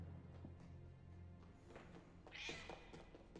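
A cat meows in a Game of Thrones video game, a fairly faint, drawn-out call that rises near the end over a low ambient game background, with no talking.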